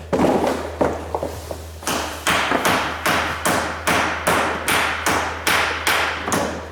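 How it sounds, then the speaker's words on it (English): A dead blow hammer taps an axle shaft into place on a 2004 Polaris Sportsman ATV, working its C-clip past the seat. About a dozen firm, evenly spaced thuds land roughly every half second over a low steady hum. "Dead blow hammer. Little persuasion to get that C-clip, that little clip inside there past so it slides back to where it needs to be seated."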